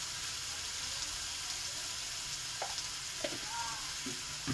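Koi fish fry with lotus stolon in a hot pan, a steady close sizzle broken by a few scraping stirs near the end.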